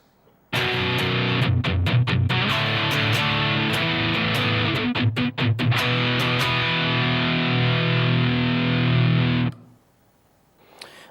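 A heavily distorted electric guitar plays a chord progression at a slow tempo, with brief choppy muted strums between sustained crunchy chords before cutting off.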